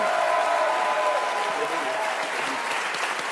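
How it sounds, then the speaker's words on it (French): Studio audience of a French TV quiz show applauding, a dense continuous roar of many hands clapping at once, loud and sustained with slight tapering toward the end. "On vous applaudit très fort."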